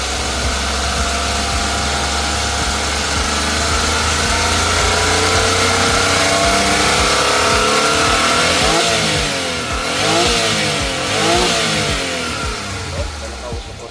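A Suzuki DA64V 4x4 automatic semi-wagon's engine runs loud and close, idling smoothly then revving up and down a few times, with someone talking over it.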